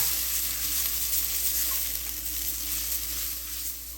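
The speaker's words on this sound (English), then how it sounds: "So now we're just going to saute it." Minced garlic sautés in a hot pan, a steady close sizzle with faint stirring scrapes throughout, no voices.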